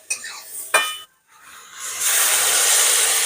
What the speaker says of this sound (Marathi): गरम पाणी टाकलं.